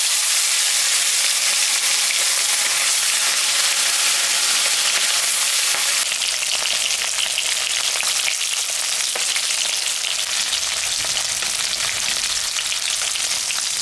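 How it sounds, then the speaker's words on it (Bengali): Mrigal fish frying in hot oil, salted and turmeric-coated, giving a loud, continuous close crackling sizzle that carries on steadily without pause, with no talk. "তেল গরম হয়ে গেছে, এখন আমি মাছটা ভাজবো।"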